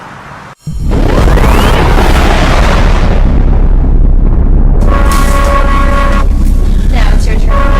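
An Ion Hunter warhead fires with a sudden loud blast that rolls into a long, dense roaring rumble, with sharp metallic tonal effects ringing through the later part of the sound.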